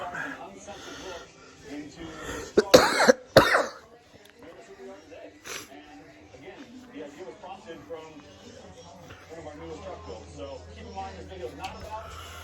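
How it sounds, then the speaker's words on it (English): A person with a cough hacks and clears their throat in a few harsh bursts, loud and close, between stretches of their own talking. "the cough is about to come on"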